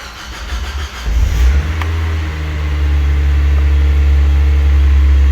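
A Mazda Miata NB running a Megasquirt engine management system cranks and fires up, then settles into a loud, steady idle that climbs slightly, close and alone with no talking.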